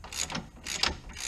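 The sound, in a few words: ratchet tightening car sway bar end links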